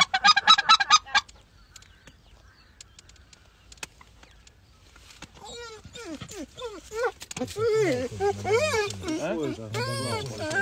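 Geese honk loudly in a quick burst of calls at the start during a goose hunt from a hunting blind, then go quiet before people's voices take over, talking close to the microphone.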